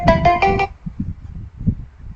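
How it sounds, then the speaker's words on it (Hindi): A phone ringtone plays a short, bright melodic burst of repeated tones, loud and close, then cuts off after under a second, leaving faint low background sounds. "कौन फोन कर रहा"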